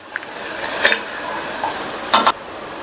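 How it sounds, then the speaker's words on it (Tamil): Grated coconut in ghee with jaggery syrup is stirred in a pan, giving a few brief scraping clinks of a spoon against the metal over a faint low hiss, quiet and close. "அடுத்து இது கூட வடிகட்டி வச்ச வெள்ளக்கரைசலை சேர்த்துடலாம். சேர்த்துட்டு நல்லா மிக்ஸ் பண்ணி விட்டுட்டு"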